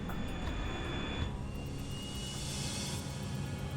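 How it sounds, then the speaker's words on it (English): An airliner lifts off the runway after its takeoff roll, and a broad, steady engine roar fills the clip. Partway through, a brighter high whine emerges, and the roar stays constant and loud with no talk. "The plane lifts off the runway."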